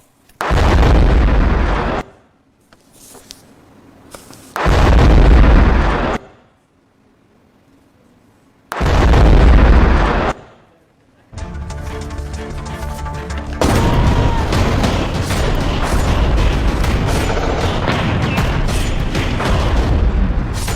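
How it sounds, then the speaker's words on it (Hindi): Loud booming blasts from explosions hitting buses carrying Pakistani army personnel: three separate explosions with pauses between, then a continuous heavy roar of further detonations and rumbling. "ये धमाके जो आपको नजर आ रहे हैं"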